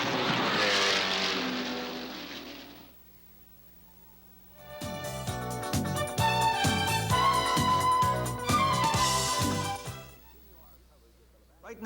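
Race cars at the 1982 Labatt's 50 IMSA GT endurance race at Mosport roar past loudly, pass by under a period of quieter running, then return as a cluster of engines revving and shifting gears up close.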